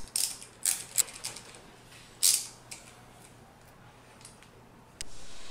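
A ratchet with a 10mm hex tightens bolts on an MK S pump gearbox: short bursts of close, crisp clicking come in quick groups, with a longer burst mid-clip and quieter clicks after.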